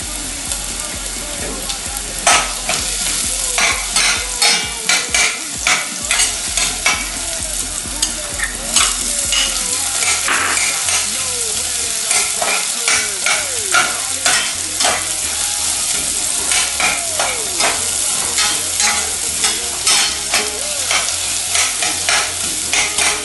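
Garlic and onion sautéing in a pan for pineapple chicken: loud continuous frying sizzle with repeated rhythmic stirring and spatula scrapes against the pan, close up, no talking.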